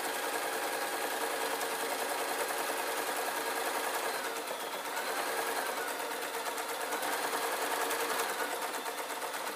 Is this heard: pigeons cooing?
no